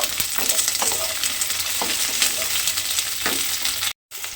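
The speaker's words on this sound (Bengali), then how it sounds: "এই সমস্ত কিছু দিয়ে আমি একটু হালকা করে ভেজে নেব।" Ginger, garlic, tomato, onion and green chilli lightly fried in a pan for a spinach dish, giving a close continuous sizzle with scraping spatula strokes throughout, briefly cut off near the end.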